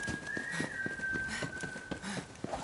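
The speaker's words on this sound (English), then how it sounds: "Someone was whistling." Someone whistles a long, steady sustained tone in the video game Borderlands 3, faint and thin over soft background game sounds and light clicks, with no talking.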